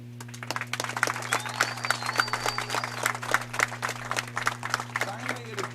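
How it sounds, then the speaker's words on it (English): A crowd at a Faulkner softball game applauds the seniors with dense, sustained clapping over a steady hum, while a voice is faintly heard under it. "one more round of applause for our seniors, Abby, Maggie, Julie, Dakota, Jerry, Taylor,"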